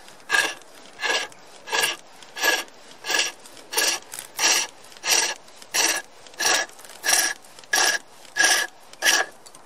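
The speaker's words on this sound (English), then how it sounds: "Just treadle down, we engage the blade." Rhythmic rasping strokes of a chisel cutting wood turned on a treadle-driven pole lathe, about fourteen evenly spaced scraping bursts with short pauses between, close and fairly loud.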